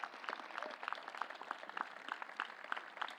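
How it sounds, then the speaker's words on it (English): An audience applauds university staff at a Denison University class induction ceremony, a steady moderate patter of many hands clapping in a hall, fairly quiet and continuous without speech. "can we also just give a round of applause to all the staff"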